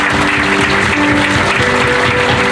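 A church congregation at a Thursday healing service claps continuously, dense and loud, with a held tone of music or voices sustained beneath the applause.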